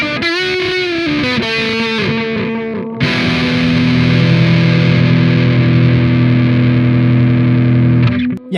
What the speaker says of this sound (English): Just so much distortion, right?